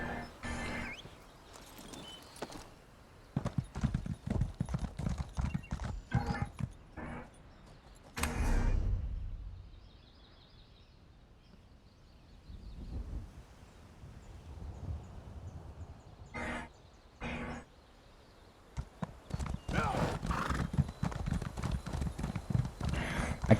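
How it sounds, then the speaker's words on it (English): Horse hooves clip-clop in Elder Scrolls Online: rapid, loud hoofbeat runs at the start and end, a heavy thud, then a quieter stretch with a brief faint whinny-like tone. "we'll go with this far more realistic looking horse"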